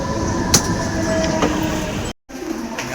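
Train running with a steady, loud rumble and rattle of wheels on rail, a few sharp clanks and a brief break near the end; close and continuous, with no talk.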